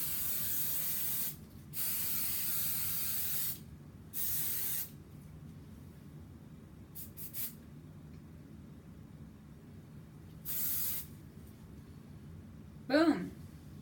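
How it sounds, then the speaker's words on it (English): Hairspray sprayed onto hair in several short bursts of hiss, each a second or two long with pauses between, close and clear in a quiet room. "then hairspray like as much as you possibly can"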